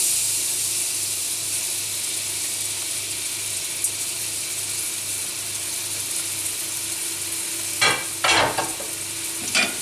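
Onions frying in fat at the base of a pot for a lamb liver dish, a steady dense sizzle throughout with a few brief scraping stirs near the end, no one speaking.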